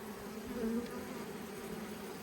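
Honey bees buzz in a steady, low, faint drone during a hive inspection at an Australian bee cave, with a slightly louder swell partway through and no one talking.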